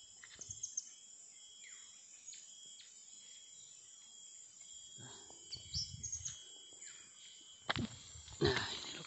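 Scattered bird chirps and short calls ring out over a high, constant insect drone, with a few soft rustles and thumps nearby; the chirping includes a serindit (blue-crowned hanging parrot) at a trapping spot in Malinau, Borneo.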